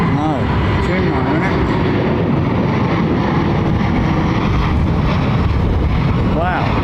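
A low-flying Boeing Dreamliner jet passes at London Heathrow, a loud sustained roar buffeted by heavy wind noise, with voices talking over it.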